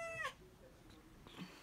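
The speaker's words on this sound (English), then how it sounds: "She is pretty much the noisiest cat I have ever known." A noisy domestic cat meows once, a short, fairly loud call near the start, followed by a fainter second meow about a second later against a quiet indoor background.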